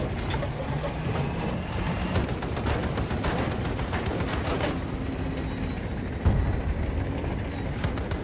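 Rapid, dense bursts of gunfire from a Battlefield 2042 match crackle steadily for several seconds, loud and close, with a heavier thump near the end.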